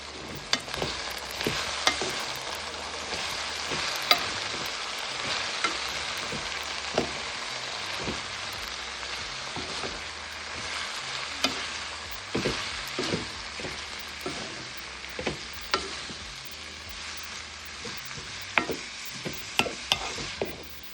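Cabbage, carrot and thyme sizzle in an oily pan with canned corned beef for a Jamaican dish, a steady frying hiss broken by frequent scraping stirs and clacks of a utensil against the pan.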